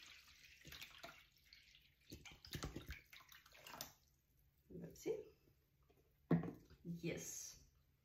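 Water poured from a container into a yarn-dyeing pot, a few splashy gurgling bursts broken by pauses, with someone speaking Danish quietly between them.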